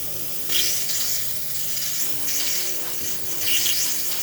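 A Quick Mill Silvano Evo espresso machine's steam wand runs after a full service and tune-up, giving a continuous loud hiss with surging bursts of spray, steady throughout with no talking.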